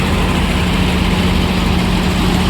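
Steady, loud rumble of a new New Holland tractor engine powering a groundnut thresher, a continuous low hum with a faint repeating throb, close by and unbroken, with no voices.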